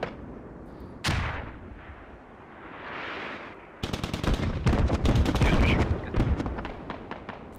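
An artillery barrage in the military video game Squad: a sharp boom, then a swelling rumble, then dense rapid volleys of blasts and gunfire, loud and sustained, with a voice talking faintly.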